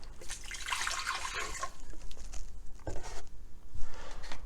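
Distilled water poured into a measuring container with marked lines, a close, hissing splash lasting a couple of seconds, then quieter trickling and handling noises.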